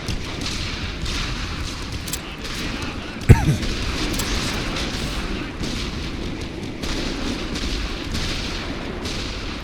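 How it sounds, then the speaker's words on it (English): Enemy artillery shells pound a World War I Western Front battlefield in a video game, a constant low rumble of distant booms topped by one sharp, loud blast near the middle. "Ah, enemy artillery."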